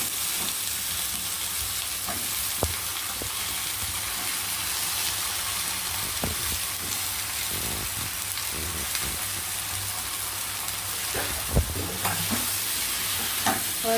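Cut vegetables sauté with lightly browned onions in a pan for a Tamil-style nethili karuvattu fish curry, a steady loud hiss of frying with intermittent clinks and scrapes of stirring, close by, no talking.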